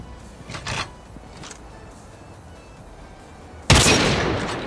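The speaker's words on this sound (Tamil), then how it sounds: "டம்மிஸை நம்ம வந்து ஷூட் பண்ணி நம்ம ப்ராக்டிஸ் பண்ணிக்கலாம்" Gunfire rings out on a practice range in Call of Duty Mobile as shots at training dummies land, with a faint early burst followed by a single loud, sharp shot with a lingering tail.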